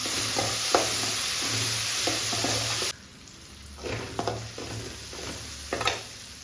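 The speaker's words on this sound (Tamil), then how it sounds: "வெங்காயம் தக்காளிலாம் நல்லா வதங்கிடுச்சு." Onions and tomatoes sautéing in a pan for a Tamil home-style lunch curry, a steady close sizzle with soft stirring scrapes; the frying is louder at first, then quieter after a few seconds, no talking.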